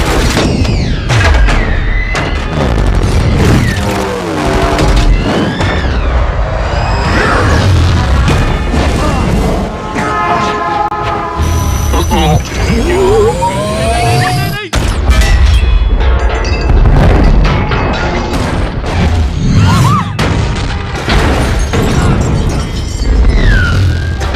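Gunfire and heavy explosions thunder through a movie action scene, with loud booms and cracks, sweeping whooshes and a dramatic music score, all dense and continuous, while voices shout over the din.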